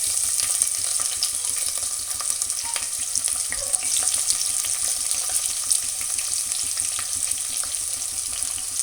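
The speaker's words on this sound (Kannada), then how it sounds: "ಎಣ್ಣೆ 3 ರಿಂದ 4 ಸ್ಪೂನ್ ಎಣ್ಣೆ ಹಾಕಿ ಅರ್ಧ ಕಪ್ಪು ಶೇಂಗಾನ ಹಾಕಿ ಫ್ರೈ ಮಾಡ್ಕೋಬೇಕು" Peanuts frying in three to four spoons of oil in a pan make a steady, fine crackling sizzle with scattered pops, moderately loud and continuous throughout.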